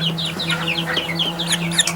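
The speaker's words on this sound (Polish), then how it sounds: "Mam tutaj ich 21 sztuk z tych kurek." Eight-week-old Polish crested chicks cluck and peep continuously at close range, a dense chorus of short overlapping calls over a steady low hum, with no talk.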